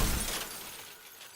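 Car windshield glass shattering as the car crashes head-first into a tree: a loud, close burst of breaking glass that fades over about a second.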